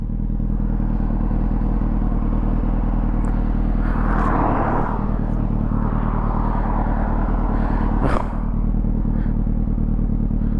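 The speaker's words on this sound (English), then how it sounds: "there is shitloads of traffic" Heavy traffic on a busy road heard from a motorcycle, a constant loud engine and wind rumble with passing vehicles swelling and fading and a brief sharp clatter near the end.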